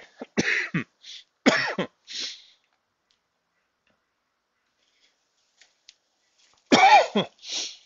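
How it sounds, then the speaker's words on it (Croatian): Several harsh coughs in quick bursts, then a long quiet gap and another close, loud coughing fit, with no talking. "Unaprijed se ispričavam na kašljanju, tepe me alergija"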